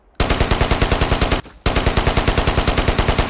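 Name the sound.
fixed machine gun firing in video game Ghost Recon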